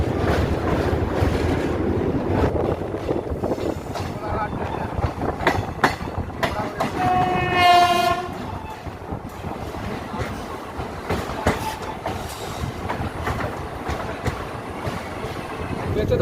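The 15722 Paharia Express, a weekly train to Digha on Eastern Railway, heard from on board as wheels rumble and clatter steadily under wind buffeting; partway through, a long, loud horn blast sounds, then the rolling noise carries on.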